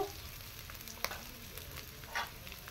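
Ginger and green chillies frying in a pan for paneer masala, a quiet steady sizzle with a couple of brief louder spits and stirring scrapes.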